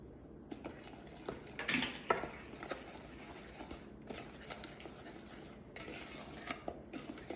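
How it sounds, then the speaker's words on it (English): An egg is cracked against a bowl for galaxy brownie batter, a quiet sharp tap followed by a second faint knock, then soft kitchen clinks and handling noises in a hushed room. "You can break the egg."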